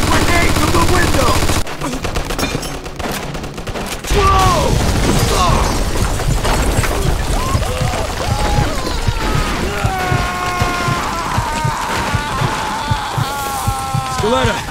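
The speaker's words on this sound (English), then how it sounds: "Looks like we found the machine gun." Machine gun fire in the Mafia II video game, dense rapid bursts of shots mixed with explosions and crashes, loud and continuous, with voices shouting over the battle.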